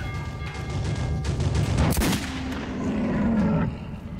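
Revolver gunshots in the video game Metro, a loud blast near the middle with a sharp crack, set against a continuous noisy game ambience with rumbling background.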